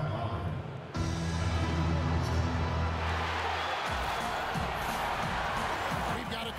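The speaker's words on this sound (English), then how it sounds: "We've got a capacity crowd here at the United Center." A capacity arena crowd at the United Center in NBA 2K, Raptors versus Bulls, roaring and cheering in a steady wash of noise, with an announcer talking over it.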